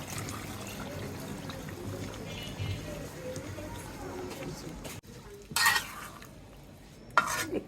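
Chicken roast in a pot with broth just added, stirred with a soft bubbling simmer and faint scraping, followed by two sharp metallic knocks of the utensil or lid after a brief pause.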